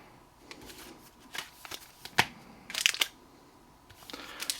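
Topps 2025 trading cards are stacked and handled close up, giving soft, scattered papery slaps and rustles that come in irregular bursts against a quiet background.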